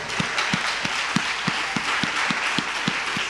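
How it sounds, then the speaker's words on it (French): Church congregation applauding during a Sunday worship service, with a dense wash of clapping and a steady rhythmic beat of louder claps roughly three per second running underneath, fairly close and continuous. "Et ce matin, tu applaudis le Seigneur pour cet amour qu'il a pour ta vie"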